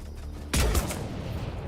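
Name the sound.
gunfire in video game Mass Effect 3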